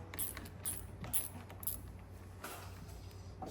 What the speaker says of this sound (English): Got my 10 millimeter, and I'm just gonna loosen the nut on the terminal cable.